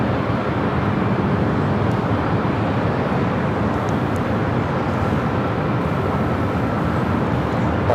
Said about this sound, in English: That was United Express SkyWest Flight 5341 coming up from Arcata, the E175.